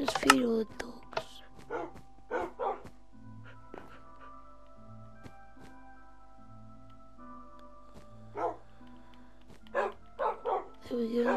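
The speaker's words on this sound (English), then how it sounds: "So let's feed all the dogs." Dogs in the video game Minecraft bark and yip in short bursts while being fed, with a voice talking at intervals between the game sounds.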